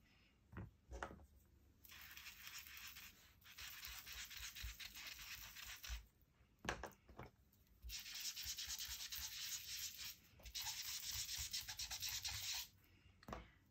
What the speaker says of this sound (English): I'm just going to use whatever's left on these sponges and ink up a piece of watercolor paper.